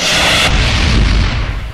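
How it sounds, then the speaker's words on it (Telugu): A loud bomb explosion sound effect in a comedy film: a sharp broadband blast at the start that rolls into a long, rumbling low boom fading over nearly two seconds, with no speech. "బాంబు పేలింది చూసావురా?"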